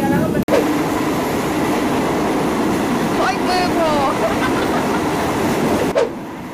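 A passenger train runs with a steady, loud rumble of wheels and carriage noise throughout, under faint voices, with a brief thump near the start and another toward the end.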